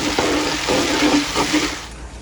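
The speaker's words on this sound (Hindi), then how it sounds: "अभी हमारा पानी जो है उबल रहा है" Water boiling in a cooking pot on a home kitchen stove, a steady bubbling, hissing wash that holds close and fairly loud throughout, then eases off slightly near the end.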